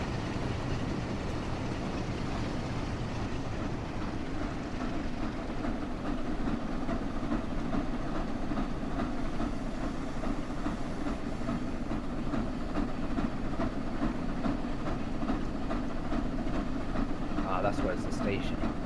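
Flying Scotsman steam locomotive in a train simulator game on the New York Penn Station to Trenton route, with steady rumbling wheel noise and rhythmic rail clicks throughout; no talk is heard.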